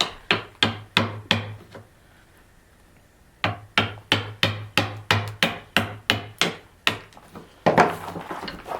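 Hammer blows on a chisel cutting through a knot in locally sawn red alder, two runs of sharp, evenly spaced wooden knocks, close and loud, with a short pause between them and a scraping rustle at the end.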